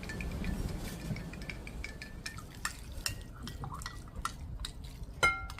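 A spoon stirs salt into a glass of water, giving light clinks and ticks against the glass with soft sloshing under them. A sharper chime comes near the end. It is close and fairly quiet, with no talking.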